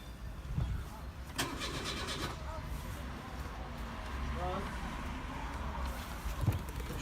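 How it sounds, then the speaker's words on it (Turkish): A Renault Megane 2 with a starting fault is turned over: a brief, rough burst of starter cranking that dies away, surrounded by a quiet, noisy background and low voices talking nearby. "Şimdi marşa basar"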